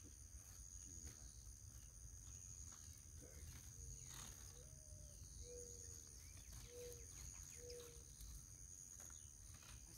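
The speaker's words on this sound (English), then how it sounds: "Itty bitty little tree frogs. They're loud as heck." Tree frogs: short chirping calls repeat several times over a dense, steady background of insect-like trilling, moderately loud and close, in a garden.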